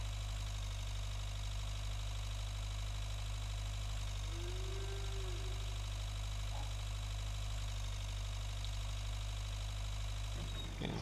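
A tractor engine idles in Agricultural Simulator 2013, a steady low mechanical drone with a constant hum and faint knocking, unchanging for the whole stretch with no talking.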